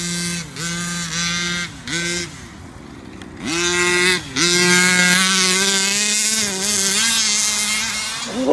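A stock 45cc petrol engine in a Rovan Baja MAX T RC car runs close and loud, revving up and down in repeated surges, a buzzy two-stroke whine that climbs in pitch and holds high toward the end.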